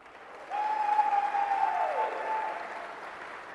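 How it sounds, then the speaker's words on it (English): Audience applause in a university welcome assembly for volunteer peers, a broad steady wash of clapping that swells suddenly, holds strong for a couple of seconds, then slowly thins toward the end. "Let's give them another round of applause."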